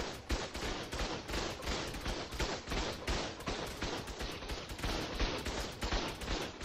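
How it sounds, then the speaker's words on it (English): Rapid gunfire in the video game Ark during a raid, a steady barrage of sharp shots in quick succession that continues throughout with no speech. "They're all shooting me, I promise."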